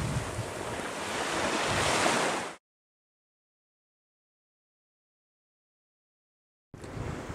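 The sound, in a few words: waves on a beach by a lagoon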